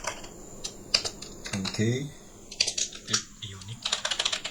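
Computer keyboard typing of a command, a quick series of close clicky keystrokes in irregular bursts, with someone speaking over part of it.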